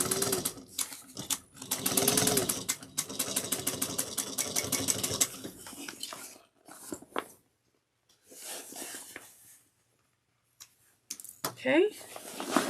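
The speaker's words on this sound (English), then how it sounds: "Top stitch it with the 1/8 of an inch seam allowance. Back stitch well at the beginning and the end." A sewing machine top stitches a tote bag in a rapid, steady run of needle clicks that stops and restarts in short bursts, close by, with someone speaking over parts of it.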